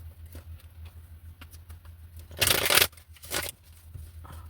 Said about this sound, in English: let's go ahead and shuffle a little bit more.